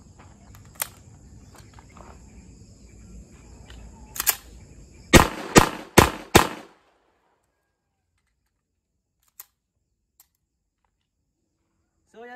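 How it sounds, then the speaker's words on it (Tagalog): Pistol shots ring out in a quick run of four sharp, loud cracks at a shooting range after a single earlier shot, with a faint hiss of background noise that then drops to near silence. "So, i-try natin na pumutok."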